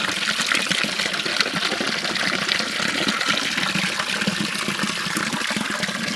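Fresh drinking water from a hillside spring pours out of stone in a steady, continuous gush, close and fairly loud, with no voices over it.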